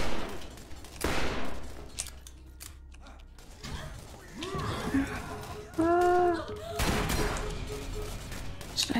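Submachine gun fire in the shooter game Borderlands, rapid bursts crackling in short rattling strings amid game effects and background sound, no speech over it.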